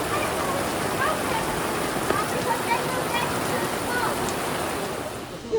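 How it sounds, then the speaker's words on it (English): Heavy rain pours down over a campsite in a dense, even hiss that stays loud and close from start to finish, with only small spattering variations. "I hope you can see how much rain there is currently falling"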